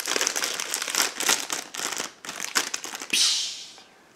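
A crinkly plastic packet of cheese crisps is handled and torn open up close, a run of loud, uneven crackling rustles ending in a sharper, sustained tearing crinkle, with no talking.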